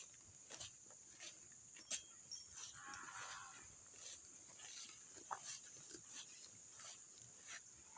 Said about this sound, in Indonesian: jadi ini saya akan carikan pejantan sapi Bali yang badannya bagus